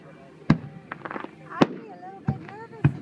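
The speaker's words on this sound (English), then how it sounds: "Look at the fireworks." Fireworks burst over a night-time show at Tierra Del Sol in 2013, with four sharp, loud booms spaced irregularly across a few seconds and fainter crackles between them, while people talk throughout.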